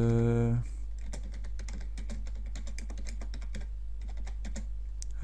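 Typing on a computer keyboard: a quick run of close, crisp key clicks in an uneven rhythm, following a brief steady tone at the start, over a constant low hum.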